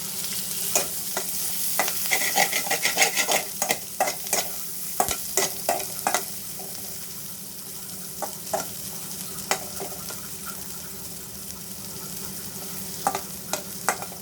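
Onions fry in leftover oil from cooking eggs for a Maggi noodle dish, under a soft steady sizzle broken by frequent sharp scraping clicks of a spoon stirring the pan, near and without talk.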